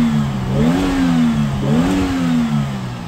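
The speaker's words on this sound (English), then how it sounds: "Let's give it a little rev up and you can listen to the engine" A Suzuki Jimny 1.3 JLX 4wd engine revved up twice from a steady run, loud and close, each rise swelling in pitch before easing back down, with no talking.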